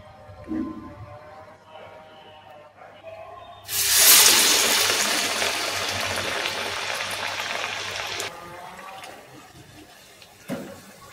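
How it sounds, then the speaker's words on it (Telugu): Chickpea masala vadas dropped into hot oil, a loud burst of frying sizzle and bubbling hiss that starts abruptly and holds steady for several seconds before cutting off, with quieter kitchen sounds around it. "వడ వేసుకొని ఇప్పుడు ఇది ఆయిల్లో వేసేసుకోవాలి"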